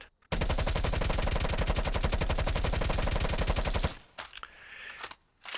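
QBZ assault rifle firing in Call of Duty Black Ops Cold War, a loud, sustained full-auto burst of rapid even shots lasting several seconds, followed by a brief rattle of handling noise.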